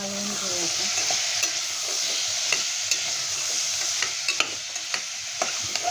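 Potatoes sizzle steadily as they are stirred in a hot pan for fresh field-bean rice, with scattered scraping clicks of the spoon over a continuous frying hiss.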